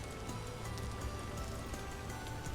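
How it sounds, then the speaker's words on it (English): Steady rain in the video game Vintage Story, a constant soft hiss of falling drops with no breaks, even and moderately quiet throughout. "since this location is almost always raining"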